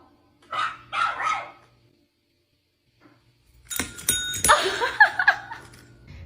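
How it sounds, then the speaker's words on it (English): A dog barks a few times after a short pause, followed by a brief bell-like ding as it rings a bell on command, then more scuffling barks and yips nearby. "Zoe, ring the bell."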